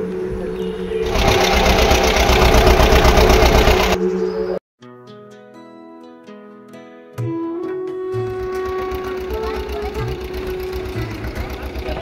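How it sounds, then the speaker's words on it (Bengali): Motor boat crossing a wide Sundarbans river through waves, a loud steady rattling engine drone that cuts out briefly, gives way to a quieter tonal passage, then resumes; a voice talks over parts. "নৌকা চলছে ঢেউর তালে"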